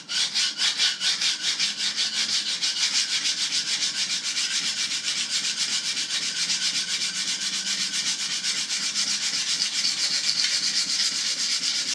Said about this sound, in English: keep your elbow down, so ideally your forearm is parallel to the sharpening stone face